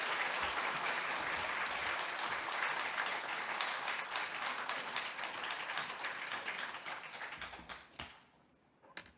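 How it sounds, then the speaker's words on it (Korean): A church congregation claps in dense, sustained applause to welcome the pastor, loud and steady for about eight seconds before thinning out and fading at the end. "박수 한번 해주세요."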